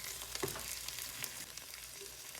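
Lamb loin chops sear in a pan with bay leaves, giving a soft, steady sizzle and frying crackle with a faint stir or clatter near the start, fairly quiet and without voices.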